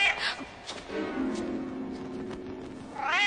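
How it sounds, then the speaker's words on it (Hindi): A single drawn-out meow from Filch's cat in a Harry Potter video game, moderately loud, set against faint background sounds with short higher cries at the start and end. "ये फिल्च की बिल्ली है।"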